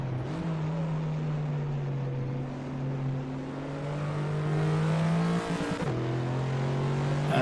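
A 2015 Ford Mustang V8 muscle car in Assetto Corsa at Barbagallo roars steadily under load, its engine note holding high with a brief dip and gear change near the end, loud and continuous.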